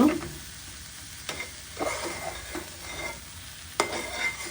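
Pumpkin frying in a pan for luchi, a soft continuous sizzle with scraping stirs of a utensil against the pan at irregular intervals, quiet and close, no talk.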